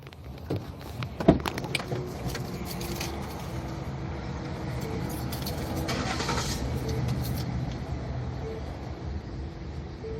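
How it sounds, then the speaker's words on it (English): A car engine idles steadily through the whole stretch beside a roadway during a disorderly conduct arrest, a low constant rumble with a brief sharp knock near the start and faint passing traffic. "Can y'all turn the car on?"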